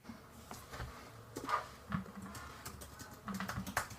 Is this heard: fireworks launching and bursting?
no